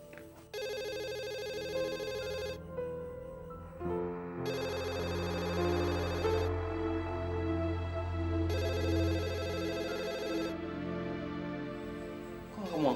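A telephone ringing indoors in bursts of electronic trilling tones with pauses between them, repeating three times at moderate volume over a low background hum.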